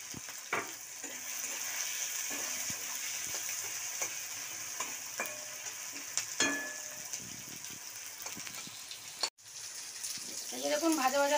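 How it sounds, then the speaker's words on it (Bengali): Onions sizzle and fry steadily in a pan, a continuous loud hiss broken by occasional clicks and scrapes of stirring, with a brief gap near the end. "এই যে দেখুন ভাজা ভাজা হয়ে গেছে পেঁয়াজটা।"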